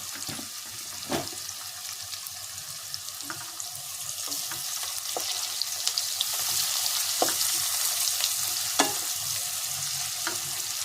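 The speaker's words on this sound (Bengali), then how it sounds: "এই পেঁয়াজ ভাজার সময় যদি একটু অল্প চিনি দিয়ে দেওয়া যায় না, খুব সুন্দর হবে" Onions frying with a little sugar in a pan, a continuous close sizzle broken by sharp clicks and scrapes of stirring.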